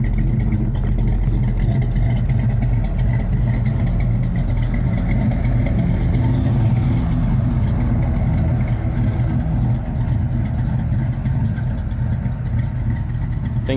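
A car engine runs steadily up close, with a loud, continuous low rumble, mild swells in pitch suggesting light revving, and no voices over it.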